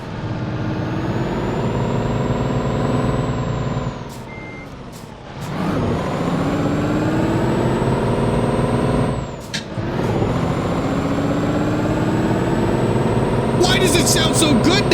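Heavy truck engine after a new engine swap in Euro Truck Simulator 2, a loud steady diesel drone revving up and down with air brake hisses and reversing beeps.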